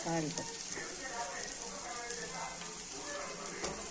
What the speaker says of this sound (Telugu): సాల్ట్ వేసుకుంటే ఎర్రగడ్డలు బిరిన వేగుతాయి